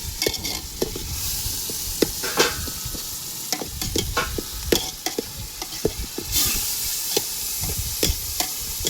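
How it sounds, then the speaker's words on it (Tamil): Ginger garlic paste sautéing in a pan with tomatoes, sizzling steadily while a utensil scrapes and stirs in repeated close, clattering strokes throughout, with no talking. "இந்த மாதிரி டைமில் தக்காளி எல்லாம் போட்ட பிறகு நம்ம இஞ்சி பூண்டு பேஸ்ட்டு போட்டு வதக்கணும்"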